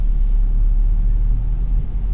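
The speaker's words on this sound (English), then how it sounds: "This is a cool little car to drift around." Manual 2017 Toyota 86 with a six-speed gearbox on high-treadwear tires, sliding sideways with its rear end hung out. A loud, steady low engine and road rumble carries on without a break from start to finish, with no talk.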